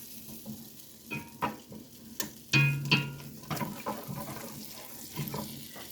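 Butter in a pan on the stove gives a faint, quiet sizzle, broken by scattered clinks and scrapes of utensils against the pan and a few louder knocks.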